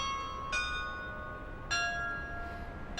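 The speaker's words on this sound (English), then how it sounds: "At the center of the ceremony was the original bell from the 16th Street Baptist Church" The original bell of the 16th Street Baptist Church in Birmingham rings out at a commemoration ceremony, two clear strikes about a second apart, each leaving a long, shimmering hum that fades slowly.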